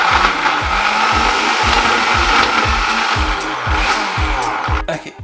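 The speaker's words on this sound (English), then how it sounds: "Bung all this in the blender, whiz it up" Countertop blender whizzing falafel ingredients, a loud steady motor whir with rhythmic thumping pulses roughly twice a second, as if the jar is struggling, stopping abruptly near the end.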